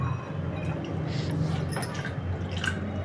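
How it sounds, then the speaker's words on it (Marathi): Water is poured into a pot of finely chopped jaggery for a sweet-and-sour red samosa chutney, a steady close liquid splashing and dripping throughout. "हा बारीक चिरून घेतलेला आहे गूळ आणि त्याच्यात पाणी घालून घेऊ आपण"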